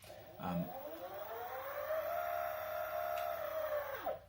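Riptide Elite electric skateboard with hub motors at its highest mode: a steady whine that rises in pitch and holds, then drops away, with rolling wheel noise.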